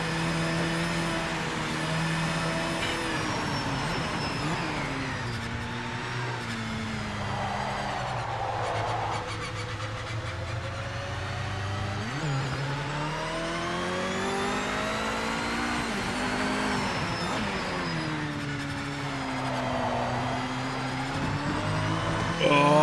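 A race car engine in Project Motor Racing roars steadily down the Mulsanne straight, its pitch rising and falling through gear changes and revs, loud and continuous throughout.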